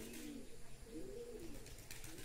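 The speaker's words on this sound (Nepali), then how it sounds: "अब मैले परेवाहरूलाई हेर्नु माथि माथि बसेर परेवा तार तारमा पनि परेवै परेवा" Pigeons perched on wires and rooftops near temples in Nepal coo in soft, rolling low calls, several overlapping murmurs at close range under faint outdoor background noise.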